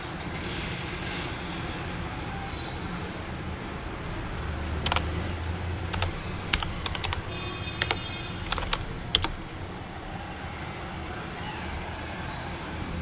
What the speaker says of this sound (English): we can confirm the legitimacy of the username by typing in the username and random text for the password